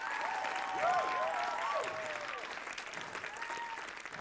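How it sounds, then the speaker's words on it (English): Theatre audience applauding at a charity show for a theatre school, a full steady round of clapping with a few whistles and whoops rising over it, tapering slightly toward the end. "Give it a round of applause."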